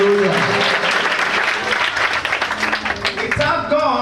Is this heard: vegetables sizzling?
no